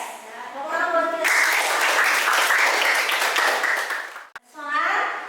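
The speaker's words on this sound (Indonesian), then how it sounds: "Tepuk tangan buat kita." Children in a classroom burst into a few seconds of loud, dense clapping, with a young voice speaking just before and another voice rising again right after the applause stops.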